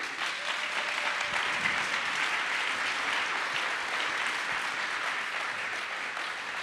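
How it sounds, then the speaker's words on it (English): At a Building Bridges closing event, a large audience applauds the organising team in a steady, dense wash of clapping that stays loud and even throughout, with no break or talk. "So I think we should applaud them."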